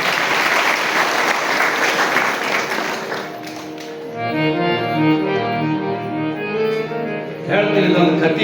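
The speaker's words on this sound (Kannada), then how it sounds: "ಚಪ್ಪಾಳೆ ಚಪ್ಪಾಳೆ" An audience at a religious gathering claps loudly for about three seconds. The clapping eases into ringing tonal sounds, then a fresh burst of applause comes near the end.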